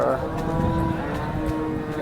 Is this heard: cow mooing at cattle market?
yes